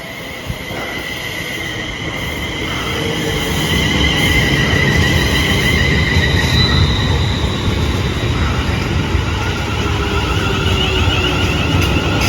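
A passenger train on the Northampton Loop rumbles steadily along the rails with a constant roar and faint squeals, growing slightly louder and then holding at a loud, even level.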